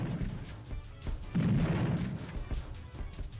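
Gunfire from the video game Army Men: Sarge's Heroes 2, a steady run of muffled shots with a heavier, louder burst in the middle, continuing without talk.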